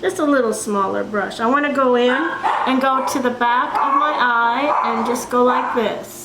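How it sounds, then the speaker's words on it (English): Dogs bark and yip intermittently in the background of a home while someone talks steadily over them during a makeup application. "Sorry about the dogs barking."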